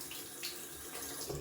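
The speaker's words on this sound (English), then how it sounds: "splash my face with cold water" Cold water runs from a bathroom tap and splashes as a face is rinsed, a steady hiss of flowing water with small splashy bursts.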